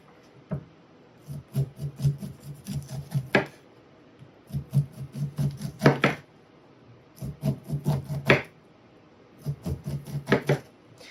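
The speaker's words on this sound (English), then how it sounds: "It's ready for cutting off the cob. So you stand it up on the end like that, and you just work your way around it." A knife shaves fresh summer corn kernels off a cob stood on end, in four quick passes of soft rasping, crunching cuts, each ending in a sharper scrape, close and clear with brief pauses between passes.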